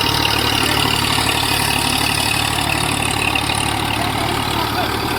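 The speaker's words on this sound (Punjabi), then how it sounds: "ਬਹੁਤ ਵਧੀਆ ਚੱਲਦਾ ਸੁਪਰ ਸੀਟਰ" A steady engine drone runs throughout at a constant, fairly loud level: an Eicher 485 tractor running a super seeder nearby.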